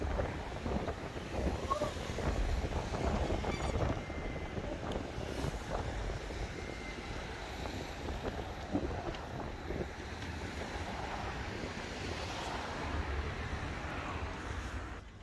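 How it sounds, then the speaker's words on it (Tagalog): Strong wind buffets the microphone with a steady low roar and gusty rumble, loud and continuous throughout. "Oh my God, grabe ang hangin."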